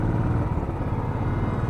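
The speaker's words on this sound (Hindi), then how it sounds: "ये फ़ायदा बाइक का भाई, गाड़ियों में से निकलते जाओ।" A motorcycle rides through dense traffic from Vrindavan toward Delhi, its engine holding a steady, continuous drone with rough low rumble and broadband road and wind noise throughout.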